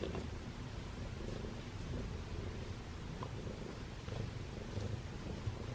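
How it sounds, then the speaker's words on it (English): Two cats purring loudly at close range, a continuous low rumbling drone that stays steady throughout with no other sounds over it. "They are both purring so loudly."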